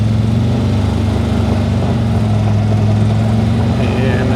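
A 2024 CFMoto ZForce 950 Sport Gen 2 UTV with an 85 hp engine, in high range and sport mode, turning tight at full left lock. Its engine gives a loud, steady, close drone throughout.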